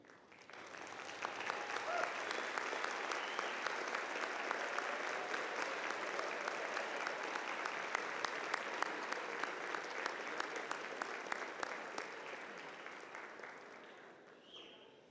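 Graduates at Millikin University's spring 2025 commencement morning ceremony stand and applaud, a broad, sustained round of clapping that swells quickly, holds steady for several seconds in a large space, then gradually tapers off.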